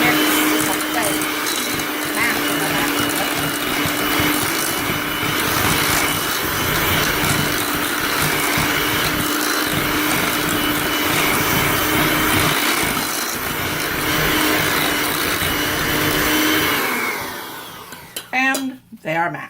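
An electric hand mixer whirs steadily as it mashes potatoes with butter for steak bourguignon, a continuous loud motor drone lasting most of the clip before cutting off near the end, followed by brief clatters.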